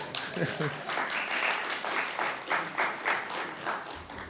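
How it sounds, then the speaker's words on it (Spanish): A seated audience at a Chilean economy ministry public address applauds in rhythmic waves, moderately loud, with a voice breaking in near the start. "el aplauso, muy bien."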